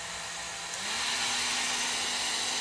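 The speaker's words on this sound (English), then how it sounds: "So now the dryer is on its maximum speed and it works pretty well." A Nova NV-1290 foldable hair dryer switched up to its maximum speed, its steady airy roar rising and holding loud and close, with a low motor hum beneath.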